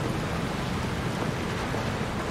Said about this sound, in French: Là il y a un orage, là.